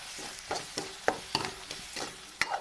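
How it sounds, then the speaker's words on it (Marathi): Bitter gourd with turmeric and salt is stirred in a pan, a series of soft rhythmic spatula scrapes and taps roughly every quarter second over a faint sizzle, close and fairly quiet. "हळदी आणि नमक टाकून घेतलेलं आहे आता हलवून घेते ह्याला"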